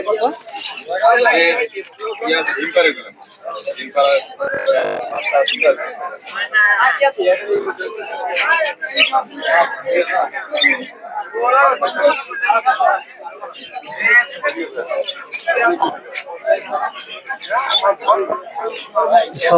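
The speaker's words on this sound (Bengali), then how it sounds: "এই জায়গায় বিভিন্ন ধরনের বাজিকর পাখি" Many birds chirp, tweet and coo at once in a busy, close chorus at a winter bird market in Putia, with people talking amid the crowd.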